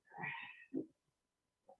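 A cat gives a clear, fairly close meow, followed by a shorter second call and a faint little chirp a moment later, in an otherwise quiet room.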